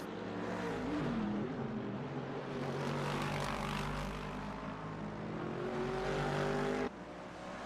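Race cars circulate at the 24 Hours of Daytona endurance race, a continuous layered engine roar with rising and falling passes that drops off abruptly near the end, with no talk over it.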